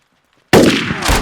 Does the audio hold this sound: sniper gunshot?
yes